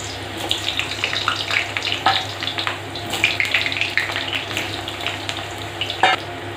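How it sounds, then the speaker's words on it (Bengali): Potatoes fry in oil for a mutton curry, producing a crackling, bubbly sizzle close up with irregular pops and spatters and a few clanks of a utensil. "দেখুন আপনারা, প্রথমে আমি আলুটা ভেজে নিচ্ছি।"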